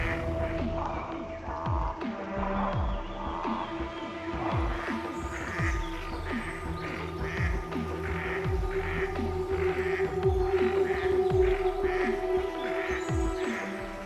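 Mother duck calling her ducklings during a bird of prey attack, giving a steady series of repeated quacking calls over a busy background of chirps and other bird sounds, moderately close with no talking.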